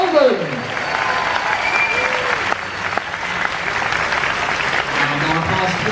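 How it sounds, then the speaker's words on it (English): A comic convention panel crowd at MCM Comic Con at the NEC in Birmingham gives sustained applause. It is a loud, steady wash of clapping and cheering that lasts throughout. "keep the round of applause going and keep the love going as well"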